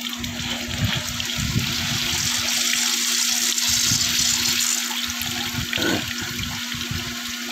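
Water is flushed through a mineral water filter membrane by a running machine, a continuous rushing, splashing flow over a steady electric hum, with a few louder gurgles.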